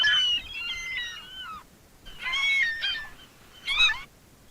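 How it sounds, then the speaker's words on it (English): Raucous seagull calls in three bursts of harsh, wavering cries over a steady windy rush on a beach, loud and close. "Seagulls on windy beach or something like that."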